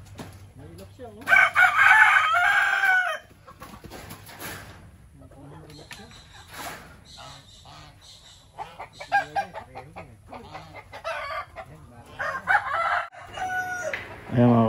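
A rooster crows loudly in repeated bursts, its calls mixed with clucking from other fowl while someone talks nearby.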